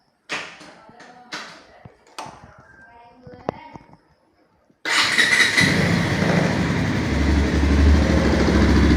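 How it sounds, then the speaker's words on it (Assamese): A 220 BS6 motorcycle with stock, unmodified exhaust starts up after some clattering and handling noises, then settles into a steady, loud, close idle rumble for several seconds. "BS6 সাউন্ড শুনি লওক এটোৱে BS6 সাউন্ড আকৌ স্টক এক্সজস্টৰ সাউন্ড হয়"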